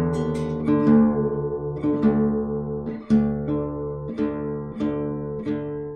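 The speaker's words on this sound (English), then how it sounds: "tune down the 6th string while playing the 4th string so I can compare an octave" A guitar's low sixth string is detuned toward D and played alternately against the fourth string an octave above, giving a series of plucked notes that ring close and clear with no voices.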